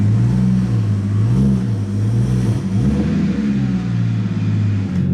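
A BMW 335i idles close by with an uneven, pulsing low rumble and a lumpy sputter, the engine note wavering up and down as from carbon-fouled intake valves.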